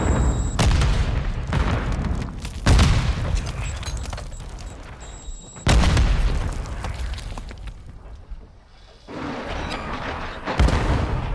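Booming grenade and explosive blasts in Call of Duty: Modern Warfare III, several loud broadband bursts at irregular intervals with rumbling decay between them and no speech over them.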